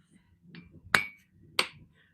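A hammer strikes metal twice in a home forging shop, each a sharp, bright ringing clang, with a few softer taps and low shop rumble around them at moderate distance.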